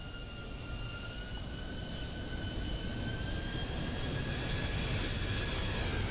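A Zibo Boeing 737-800 landing in the X-Plane 12 flight simulator, with a continuous loud jet engine roar and steady high whine that builds slightly, heard alone without talk.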